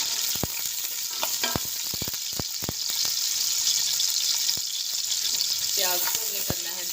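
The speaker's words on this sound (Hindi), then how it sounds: "ये किचन ऑयल गर्म हो चुका है। अब मैं इसमें डालूँगी ये प्याज" Onions sizzle and fry steadily in hot kitchen oil, with clattering stirs and utensil knocks over the continuous hiss, close and fairly loud, with no talking.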